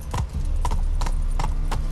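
Roach the horse galloping in Witcher 3, five crisp, evenly spaced hoof strikes in a quick rhythm over a steady low background bed.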